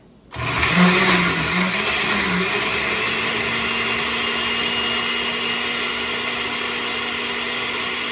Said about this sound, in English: I'm going to blend this up. It's going to get noisy, but it'll be quick.